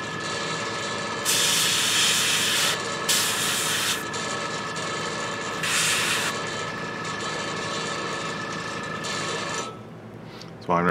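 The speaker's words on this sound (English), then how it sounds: "Hopefully my compressor isn't too loud." A steady airbrush compressor hum runs throughout, with bursts of hissing paint spray starting and stopping several times while painting a miniature figure.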